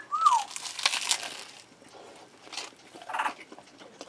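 A few crisp crunching bites into a bacon, egg and cheese breakfast sandwich up close, with rustling crinkles of wrapping around them, then quieter chewing, no talking.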